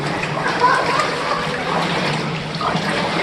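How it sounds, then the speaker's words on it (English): Water sloshes and splashes in a narrow rock tunnel as feet wade through it, a steady wet churning with occasional louder splashes, with voices faintly present in the background. "I wouldn't drink from this water though, not with everybody's feet's going through."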